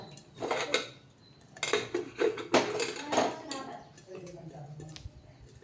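Sorghum grains pop inside a pressure cooker with a scatter of sharp clicks and taps in irregular bursts, while someone talks over the popping.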